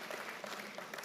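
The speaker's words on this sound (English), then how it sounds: "can we just give a round of applause to our Chairperson, the Chairperson of the University, please?" Faint, brief applause from an audience at a university's tenth anniversary celebration, a soft, even wash of clapping.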